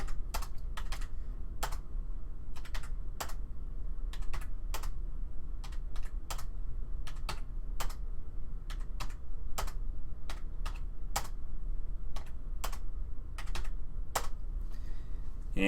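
Rapid irregular clicks of number keys being tapped on a computer keyboard while filling in a scoring spreadsheet, close and crisp, with short pauses between bursts and no talking.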